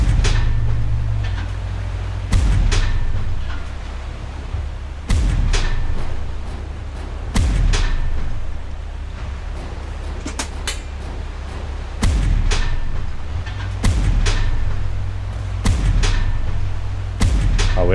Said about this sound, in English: Let's get our mortar firing away.